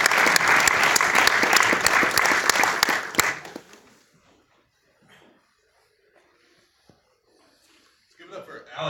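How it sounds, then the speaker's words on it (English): An audience at a blockchain developer conference applauds a speaker with loud, dense clapping for about three seconds, then it quickly dies away into near silence with faint rustles before talking resumes. "So give it up for Nate Strain."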